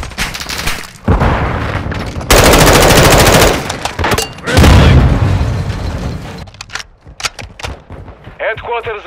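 Rapid automatic gunfire and booming shots in a Call of Duty: Modern Warfare II multiplayer match, loud dense bursts with short gaps, fading toward the end under a brief voice.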